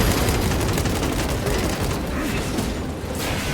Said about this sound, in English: Rock grenade deployed!